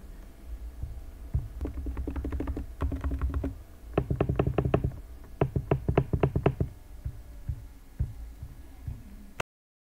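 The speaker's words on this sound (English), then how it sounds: "they capture keyboard and touchpad clicks" Rapid bursts of keyboard and touchpad clicks on a TUXEDO InfinityBook Pro 16 Gen8 laptop, picked up by its built-in microphones, close and crisp, in uneven runs with short pauses between them.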